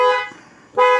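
Two short honks of a car horn, loud and near, with a brief gap between them, sounded from the driver's seat after fitting a new steering wheel.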